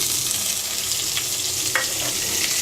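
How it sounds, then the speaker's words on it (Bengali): Chopped medium onions with black cumin fry in a pan for a Bengali rohu-in-mustard dish, sizzling steadily with a bright crackle and a few brief clinks of stirring. No voices are heard. "পেঁয়াজটাকে হালকা ভেজে নেব।"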